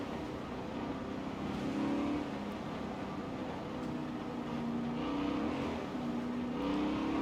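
A BMW M3 GTS in Forza Horizon 4 drives through tight winter corners, its engine revving up and down in repeated surges as it brakes and accelerates, loud and continuous with no other sounds.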